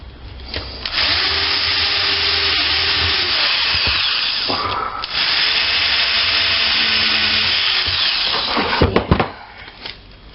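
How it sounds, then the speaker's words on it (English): A loud power drill runs steadily for several seconds, with brief pauses and changes in pitch as it bites through material, then a few short bursts at the end. "I'm going to have to re-drill that a little bit"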